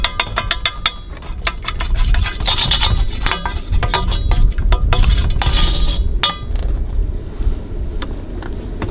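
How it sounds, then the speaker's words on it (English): Eggs and milk whisked for rattlesnake batter, with quick clinking taps and scraping of a whisk against a bowl, close and continuous. "A couple eggs, approximately this much milkish. Just add that in there, whisk it up a little bit"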